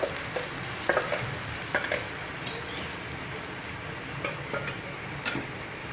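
Onion masala paste fries with a steady sizzle filling the clip, with occasional soft clicks and stirring scrapes in the pan.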